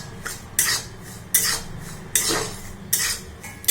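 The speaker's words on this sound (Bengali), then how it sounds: "আমি এখন সুজিটা শুকনো খোলায় ভালো করে ভেজে নেব, লাল করব না।" Semolina being dry-roasted in a pan on low heat while a utensil stirs it, giving repeated scraping strokes against the metal at a steady rhythm, close and moderately loud, with no talking.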